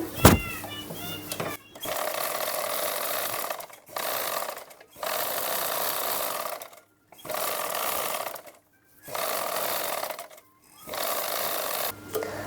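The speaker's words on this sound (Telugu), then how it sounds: "వేసుకున్న తర్వాత ఇప్పుడైతే డబల్ కుట్టు వేసేసుకుందాం" An electric sewing machine runs in steady bursts while double-stitching a lined blouse, each run lasting a second or two with short silent pauses between them, loud and close throughout.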